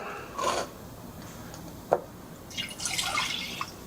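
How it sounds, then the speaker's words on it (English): Water poured into a pot of sugar, a few short splashes and drips, with a single sharp drip near the middle and a longer trickling pour toward the end, fairly quiet throughout. "I will put about that same amount of water in there, which will help me wash down my sugar"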